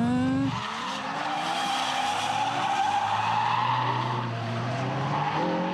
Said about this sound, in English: Put a lot of speed and step on the brake and turn the handle. The back end will stick out and you drift.